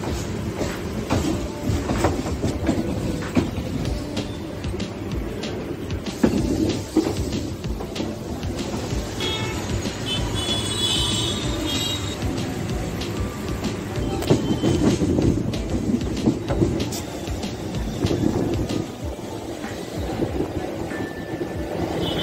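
Hyderabad local train rolling steadily, with a continuous loud rumble of wheels on rails and occasional clicks and rattles, no talking.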